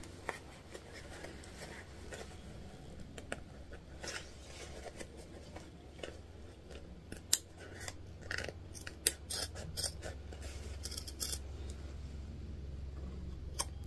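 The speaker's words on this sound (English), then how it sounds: "what we're doing is just cutting a straight line down the center" Scissors snipping through sewing fabric while opening a seam for a hobo bag, a run of quick, close crisp cuts in irregular bursts over a low steady hum, with no talking.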